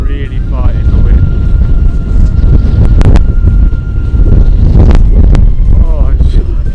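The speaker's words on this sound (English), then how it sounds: "Really fighting the wind." Strong gusting wind roars steadily and loudly over the microphone while an FPV drone flies in extreme winds, a dense low rumble with brief whistling tones, nearly constant throughout.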